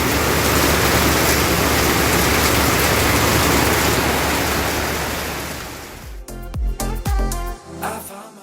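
Rain falling in Boston, a loud, dense hiss of steady downpour that gradually eases and gives way after about six seconds to a few scattered knocks and clatters near the microphone.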